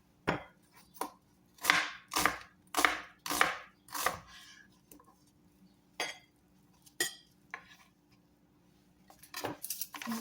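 A knife chops onion on a cutting board in a run of sharp, close thuds, about ten strikes with irregular pauses and a quick cluster near the end, with no talking.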